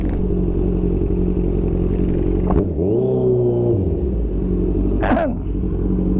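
A Kawasaki Z1000 motorcycle engine idles with a steady, close low rumble, then revs up sharply around mid-clip, with a second brief blip of the throttle near the end.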